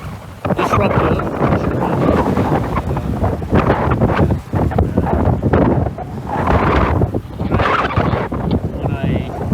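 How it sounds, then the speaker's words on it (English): Waves slap and wash against a sailboat running under a full main and double-reefed jib, with heavy wind buffeting the microphone in loud, surging bursts. "Waves are quite disruptive."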